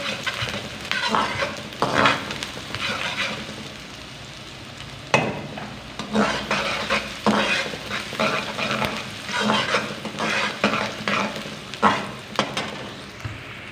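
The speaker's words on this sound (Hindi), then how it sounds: "और अदरक डालेंगे। और 1 मिनट के लिए अच्छे से भून लेंगे।" Ginger and garlic frying in a pan for restaurant-style veg and egg fried rice, a steady close sizzle broken by repeated scraping stirs of a spatula against the pan.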